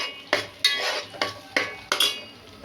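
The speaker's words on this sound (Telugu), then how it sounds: "నెక్స్ట్ ఆనియన్ టమాటా పేస్ట్, ఈ ఆయిల్లో బాగా ఫ్రై అవ్వాలి." Onion and tomato paste stirred in hot oil, a spoon scraping the pan in about five rhythmic strokes roughly every third of a second, each a bright close scrape over a faint frying hiss.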